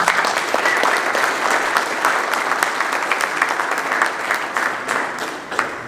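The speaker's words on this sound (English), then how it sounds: "Please give yourselves a big round of applause." Delegates applaud at the opening ceremony of the 2022 Squash Federation of Africa Seniors Championships, producing loud, close, continuous clapping with scattered sharper claps that tapers slightly near the end.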